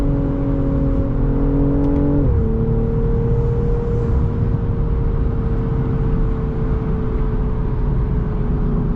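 A BMW M340i engine drones loudly and steadily just after a downshift. Its pitch drops once early on, then holds a constant hum with road noise beneath.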